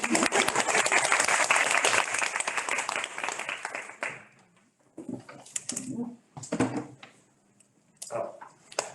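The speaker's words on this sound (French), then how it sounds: "On va applaudir." Audience applause at a conference debate, a dense burst of clapping filling the first four seconds, then thinning out into scattered claps and movement as the room settles.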